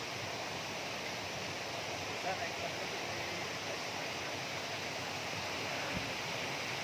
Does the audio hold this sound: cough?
no